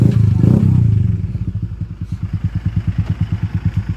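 A motorcycle engine idles with a steady, rapid pulsing putter close by, after a louder rev-like swell at the start, as the bike is taken away to a police station after a suspected hit-and-run crash.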